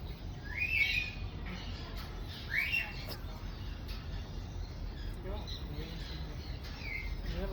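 Colorful pet birds chirp in short, bright calls, two clearer bursts standing out early and fainter tweets later, over a steady room hum.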